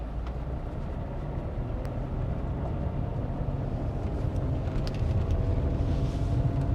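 A car's engine runs and races in first gear during a driving lesson on a straight road, giving a steady, loud, continuous rumble with no voices.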